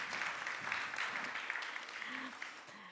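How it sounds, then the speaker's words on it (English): A small round of applause for panel guests at a virtual-worlds conference, modest scattered clapping that thins out toward the end, with a voice murmuring faintly over it. "Give them a small applause."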